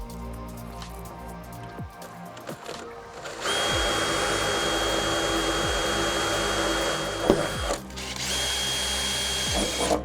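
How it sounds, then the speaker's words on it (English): A power drill whirs steadily for several seconds, close and loud, drilling a 3mm pilot hole on a Ford Ranger, its pitch dipping briefly as the bit bites in, with a short pause midway. "now I'm just going to use a pilot drill bit, which is a 3mm."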